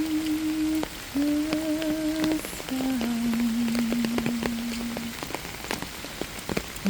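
Steady rain falls throughout as a dense, continuous hiss of white noise with scattered drop ticks, while a soft sustained melody of long held tones drifts underneath.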